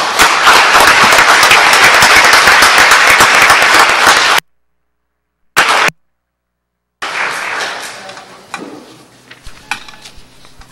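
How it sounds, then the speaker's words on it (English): Audience applauding Marines at a Nutley, NJ Board of Commissioners meeting: loud, dense clapping for about four seconds, then abrupt cut-outs, then a thinner, fading patter of scattered claps. "I think we should give the Marines a round of applause"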